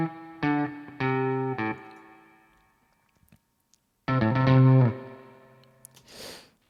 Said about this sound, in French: je vais quand même vous faire écouter la guitare en solo pour que vous fassiez une idée